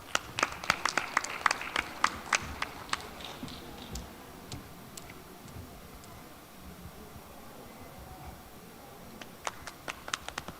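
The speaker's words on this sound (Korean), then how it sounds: "여러분 박수로 맞아주시기 바랍니다." Sparse, fairly faint audience applause welcomes a startup presenter at a Korean startup showcase, with scattered individual claps that fade and pick up again.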